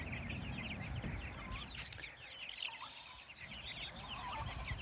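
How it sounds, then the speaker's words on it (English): Meat chickens cluck steadily inside a netted pen, a dense, continuous flock chatter close by with no voices over it. "Half of these meat birds are for our friend Thomas that we raise a pig with"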